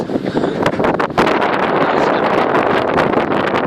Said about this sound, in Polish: To jest wiatr.